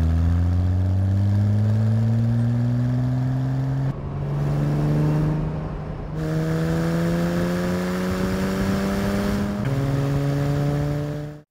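The engine of a 1963 Jaguar XKE E-Type hums loudly and steadily, with pitch rising through repeated gear-like climbs and a brief dip partway, with no talk.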